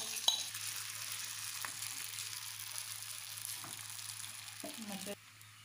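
Potato and semolina batter added to hot oil, a soft steady sizzle and crackle with a few light clinks of a utensil, fairly faint and close.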